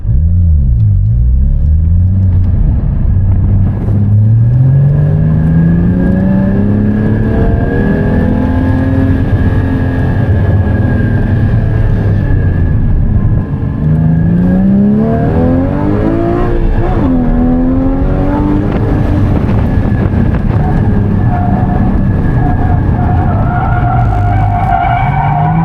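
Drifting car in a sideways driving class, engine revving hard with rising and falling pitch and tire skid, then the throttle eases off as revs drop; loud and continuous throughout.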